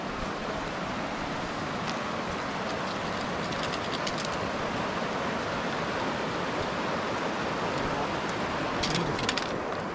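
A river rushing beside a mountain trail on the John Muir Trail, a steady broad roar of flowing water, constant and enveloping, with a few faint clicks near the end.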